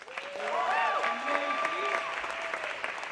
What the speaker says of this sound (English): Let's have a round of applause for all of our cup tasters competitors.